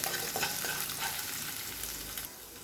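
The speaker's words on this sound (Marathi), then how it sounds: "दहा ते बारा लसणाच्या पाकळ्या आणि थोडंसे अद्रकीचा तुकडा त्यामध्ये टाकायचे थोडंसं परतून घ्यायचं" Garlic cloves and a piece of ginger fry in a pan with a dense, steady hiss of sizzling oil close up, a few soft stirring scrapes over it, and the sizzle dying down at the end.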